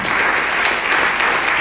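A church congregation at a French-language service applauds together, a loud, steady wash of clapping that fills the whole moment without a break, with no voices rising above it.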